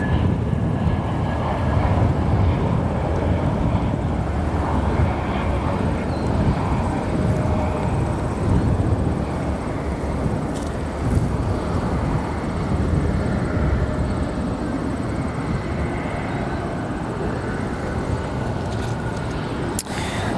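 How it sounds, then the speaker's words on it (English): A United Airlines Airbus A321 arrives at O'Hare Airport, its distant jet engines a steady broadband roar that fades slightly over the landing. "Airbus A321 arriving from Vegas and operated by United Airlines."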